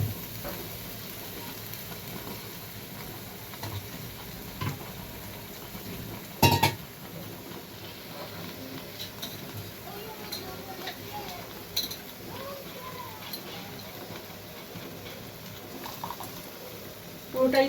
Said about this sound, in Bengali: যেটুকু আছে ওটাকে জল দিয়ে গুলে আমি দিয়ে দিচ্ছি